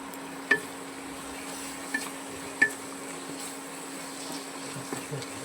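Pangas fish curry with potatoes sautéing in a pan, a low steady sizzle with a few sharp clinks of a spoon against the pan as it is stirred, no voices.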